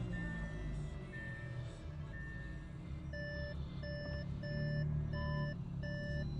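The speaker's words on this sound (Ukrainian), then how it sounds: "передні та задні парктроніки" Parking sensors on a 2013 Audi A7 give a string of steady electronic beeps, slow at first and then quicker and more regular, against a low engine hum.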